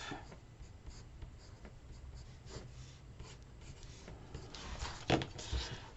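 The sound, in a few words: marking an envelope template with a pencil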